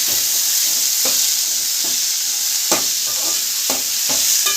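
Chopped onion and tomato sizzle loudly in a pan for gongura chutney, with a steady frying hiss and repeated scraping and stirring strokes of a spatula, and no voices.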